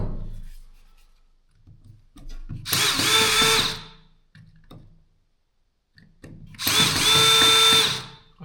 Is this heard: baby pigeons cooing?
no